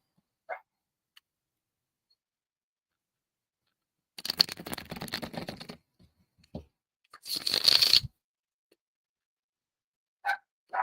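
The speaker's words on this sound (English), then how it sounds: "I'm going to give it a good shuffle." Two bursts of riffling tarot card shuffling, the first about a second and a half long, the second shorter, with brief soft taps between them in an otherwise quiet room.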